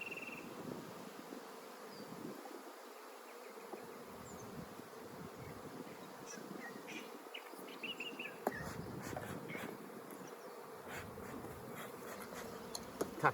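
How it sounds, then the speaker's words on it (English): Honeybees buzzing around a Flowhive 2 brood box while a nucleus hive is transferred in, a soft continuous swarm drone with individual bees passing close, alongside light handling clicks. "Touchy these bees."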